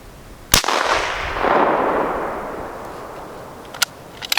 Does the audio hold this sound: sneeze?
no